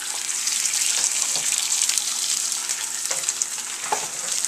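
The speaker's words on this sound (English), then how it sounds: "Then we're going to add our 2 over easy eggs." Two over easy eggs fry in a pan, giving a loud, steady crackling sizzle with scattered pops, close up and without any talking.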